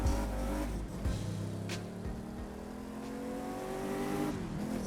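A car driving in The Crew 2 racing game, with a loud steady engine drone that rises and falls through gear changes and revs, running continuously without speech.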